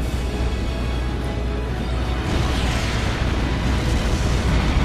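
Airstrike explosions in the Trails of Cold Steel fortress battle: a loud, continuous rumbling roar of blasts with no clear gaps, swelling slightly about halfway through, with no talking.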